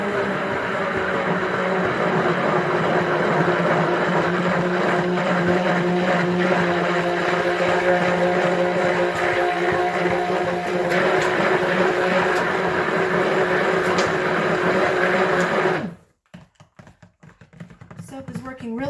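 Stick blender whirring through soap batter in a steady, loud, continuous drone for about sixteen seconds, then cutting off abruptly into near quiet.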